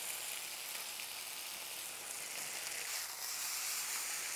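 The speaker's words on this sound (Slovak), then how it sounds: "Mäso dáme opekať. K mäsu prihodíme najskôr mrkvu, premiešame" Marinated chicken breast sizzles in a hot pan with carrot and pepper, giving a loud, steady broadband frying hiss that continues without break.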